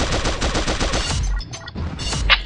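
Rapid automatic gunfire from the video game Pixel Gun, loud close bursts of repeated shots followed by a few separate single shots, with no voices.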